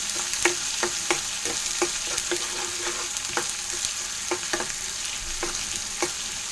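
Ginger garlic paste frying in a pan for a small fish curry, a constant bright sizzle broken by a steady series of sharp spoon taps against the pan.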